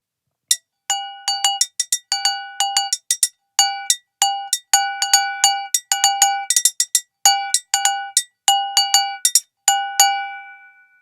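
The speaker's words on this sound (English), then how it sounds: "that's the atarigane" An atarigane hand gong in Edo bayashi taiko music rings out with bright, sharp metallic strikes in quick, syncopated patterns, played alone and close.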